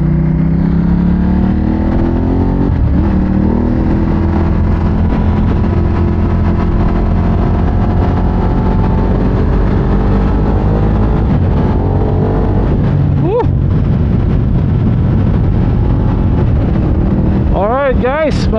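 A Ducati Hypermotard 939 SP motorcycle on a test ride drones continuously with strong wind buffeting the microphone, engine pitch rising and falling through gear changes, with a rev surge near the end.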